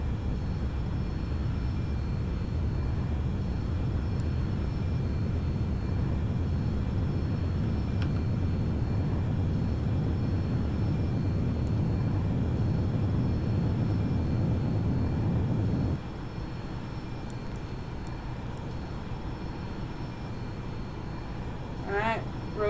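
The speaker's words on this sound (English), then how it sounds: "Alright, now that we're rolling, takeoff power set." Airplane engines at takeoff power in the flight simulator X-Plane 11, a steady loud roar that drops to a lower, quieter drone partway through, with a brief chirping tone near the end.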